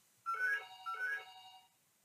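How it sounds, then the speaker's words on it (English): A telephone rings twice in quick succession, each ring a bright warbling electronic trill, fairly faint and alone, followed by silence. "The phone might ring a while."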